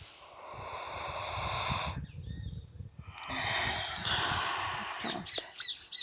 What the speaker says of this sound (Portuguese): Inspira bem profundo.